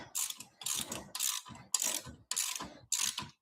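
A ratchet tightens 13 mm bolts on a Nissan Altima with rapid clicking bursts, about six short close strokes each separated by a brief pause.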